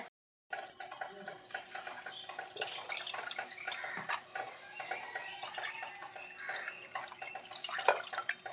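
Wet ground ragi is worked through a wide-mesh sieve, giving a continuous close, slushy squelching and dripping with faint scraping. Someone talks quietly at times over the steady mushy sound.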